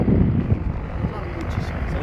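Engine of a Bekas light aircraft running at an airfield, a steady low droning rumble with wind buffeting the microphone, continuous and fairly loud throughout.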